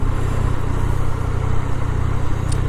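A Yamaha FZ09 (MT-09) motorcycle engine hums steadily during a test ride, a loud, continuous low drone with wind rush and no talking.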